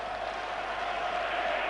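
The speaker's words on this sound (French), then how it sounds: "qui sort sous les applaudissements de son public" A stadium crowd applauds a substituted player near the end of the Inter Milan vs AS Roma UEFA Cup final first leg in 1990–91. The applause is a steady, dense wash of clapping with no breaks.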